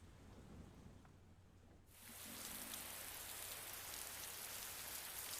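Rain on a rainy night in the video game Persona 4 Golden, a steady hiss of rainfall that swells suddenly louder and stays dense and even, faint and without talk.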